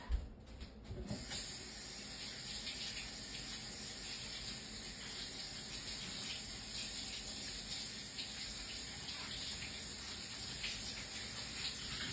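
Tap water runs steadily over food being rinsed at a prep station, a continuous hissing gush with a brief knock at the start, no talking.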